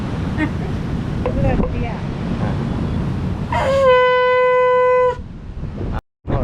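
A conch shell blown at a seaside shell stall gives one sustained, bright horn-like tone lasting over a second, loud over steady wind and surf noise, with voices talking nearby before it.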